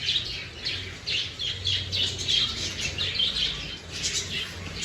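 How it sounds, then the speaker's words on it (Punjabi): Several birds chirp and squawk continuously in a busy, overlapping chorus, fairly close, with a low background rumble and no talking. "ਦੇਖੋ ਚਿੜੀਆਂ ਕਿਵੇਂ ਕਿਆ ਕਿਆ ਕਰਦੀ ਹੈ"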